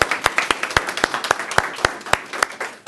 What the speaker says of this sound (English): we just need to give them a round of applause for sharing their story and their courage as well